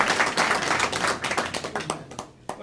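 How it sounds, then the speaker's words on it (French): Applause at a literary café gathering led by a philosophy professor: a burst of hand clapping from a small audience, dense at first and thinning into scattered claps before fading. "Allez, applaudissez."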